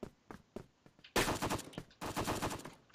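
Gunfire in a shooter video game, first a few separate pistol shots spaced apart, then two dense rapid bursts of shots, loud and close, with no talking.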